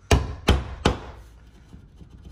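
Flathead screwdriver being struck to punch a hole in a wall for a toggle bolt, three sharp, loud knocks about a third of a second apart, then quiet room tone.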